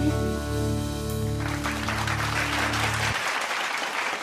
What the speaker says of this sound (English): let's give him a round of applause po